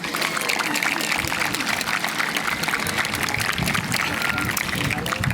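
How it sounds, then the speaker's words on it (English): A graduating class applauding at a graduation ceremony: dense, sustained clapping from a large crowd at steady loudness throughout, with cheering mixed in. "So please, class of 2022, give yourselves a round of applause."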